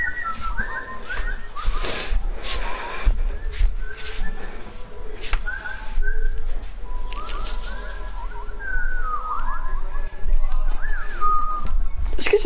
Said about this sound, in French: Est-ce que c'est toi qui siffle?